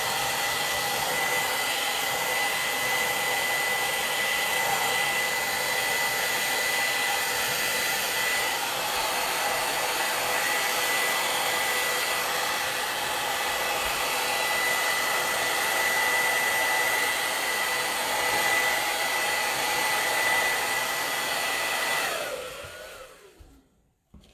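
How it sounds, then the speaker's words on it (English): A small hair dryer roars steadily at close range for about twenty seconds, a constant high-pitched whine over a broad airy rush, then cuts off abruptly. "I've got a little hair dryer here"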